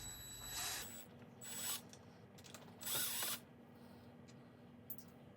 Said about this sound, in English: You always want to use a Milwaukee #2 bit.